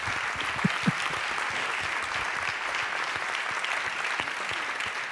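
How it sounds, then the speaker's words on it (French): An audience applauds at a circular-economy challenge event in 2021, a steady, even patter of many hands clapping that fills the space from start to finish. "Sous vos applaudissements."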